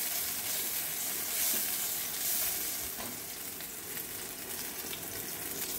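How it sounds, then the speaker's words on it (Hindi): Green chillies fry in a pan on the stove, giving a steady, close sizzle and crackle of hot oil that runs the full length with small stirring bumps and no voices. "इसे थोड़ा फ्राई कर लेना है।"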